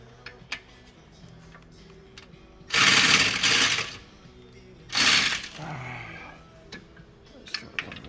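A power tool gun works the sway bar bracket bolts on a Hyundai iLoad in a workshop, firing two loud bursts of roughly a second each amid faint clicks and handling noise.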